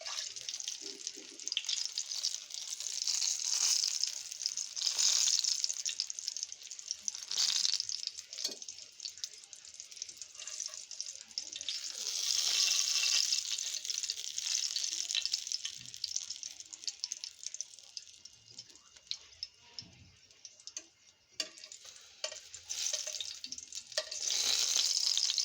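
Eggplant slices frying in hot oil with a steady, bright sizzle that swells and fades as pieces are lifted out and added back, close and continuous with no talking.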